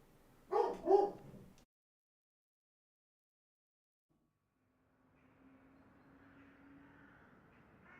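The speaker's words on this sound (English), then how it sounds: "the dog's going to bark now" A dog gives a couple of close barks in quick succession, then silence, followed by a faint steady hum.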